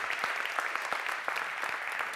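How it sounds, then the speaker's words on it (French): An audience at an awards ceremony applauds, a brief burst of moderately distant clapping with dense, even patter. "On applaudit Pascal Hardy d'Agripolis."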